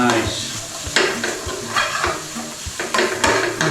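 Spices and tomato sizzle in a pan for mango chicken curry while a utensil stirs and scrapes the bottom in repeated close strokes, the frying hiss steady underneath.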